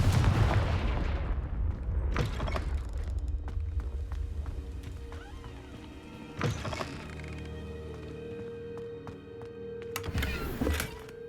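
Spells cast in the Hogwarts Legacy video game, including Incendio and Confringo, land as sharp blasts and thuds at intervals over a low ambient bed; a voice speaks the spell names.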